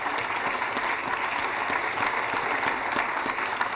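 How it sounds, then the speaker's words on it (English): A crowd applauds steadily at an outdoor groundbreaking ceremony for the 100 Hooper development. Dense, continuous clapping from many hands holds at an even level for the full stretch, with no speech over it. "if we can give them a round of applause."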